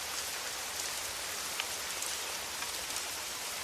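Steady heavy rain pours down, a dense, even hiss with occasional louder drops pattering on a surface, continuous with no voices.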